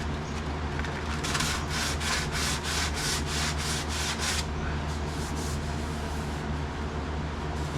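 Hand sanding on a car body makes a series of rapid, rhythmic scratchy strokes, about ten close back-and-forth passes followed by a few lighter ones, over a steady low background hum.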